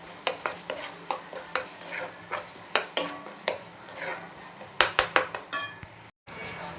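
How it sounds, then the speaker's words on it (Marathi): A ground masala paste with garam masala, turmeric, salt and coriander powder roasts in a pan as a utensil strikes and scrapes it in a brisk series of loud metallic clinks over a faint sizzle, ending in a brief cutoff. "आता हे मस्त भाजून घेते."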